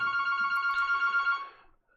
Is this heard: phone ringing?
yes